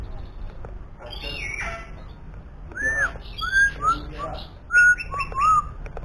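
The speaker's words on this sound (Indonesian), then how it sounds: "Kacer dan kutilang tiara." An oriental magpie-robin (kacer) songbird sings bright whistled phrases and chirps, fairly close and clear, with rising and falling notes in bursts over faint background noise.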